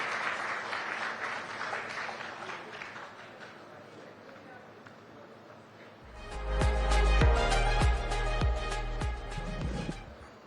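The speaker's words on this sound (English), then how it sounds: "A big round of applause, ladies and gentlemen." An audience applauds at a corporate event unveiling a new network identity, a broad wash of clapping that gives way midway to loud music with heavy beats.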